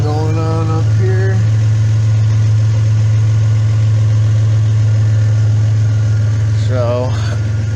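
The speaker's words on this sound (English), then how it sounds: "All hooked up. Engine running." A 1997 Toyota 4Runner engine idles steadily and loudly up close, a constant low hum running throughout, with brief voices and a short rising whine near the start and end.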